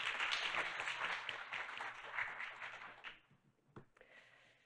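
Applause from an audience at a Korean ESG and social value forum, a moderate patter of many hands clapping for about three seconds before it thins out into a few scattered claps and room noise.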